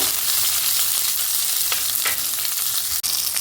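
Onions sizzle and fry in a pan as their water cooks off, a steady close, loud hiss running throughout with a few brief stirring scrapes and no talking.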